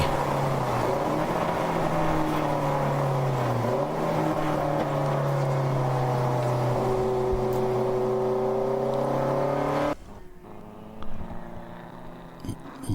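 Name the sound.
race car crossing the start-finish line, endurance race at Daytona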